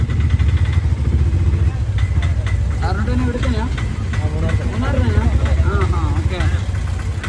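An auto-rickshaw engine runs steadily in Munnar, a loud, close, continuous drone heard from on board throughout, with someone talking over it.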